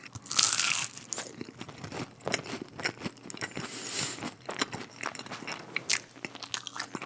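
Close, loud crunching and biting on a Domino's cheese crepe pizza made of layered thin cheese, with irregular bursts of chewing and crackling throughout, no talking.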